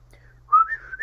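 A man gives a cheery whistle while he paints: a short, bright tune that rises and wavers, fairly quiet over a low steady hum, with no talk.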